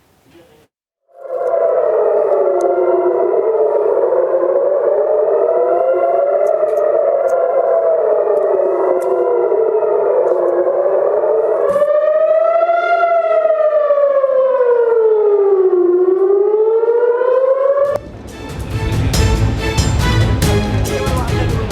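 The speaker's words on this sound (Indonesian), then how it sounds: "Sirine pertahanan bergema di langit malam Israel." A loud wailing civil defense air raid siren in Israel at night rises and falls steadily for a long stretch, then cuts into harsh noisy crackle at the end.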